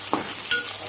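Dal rasam with salt and turmeric being stirred in a pot, two short scraping strokes of a spoon over a soft background hiss, close and fairly quiet.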